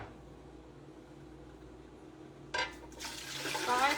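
Water pours into a soup pot over sautéing onions, starting abruptly after a quiet stretch and building into a steady rushing splash near the end.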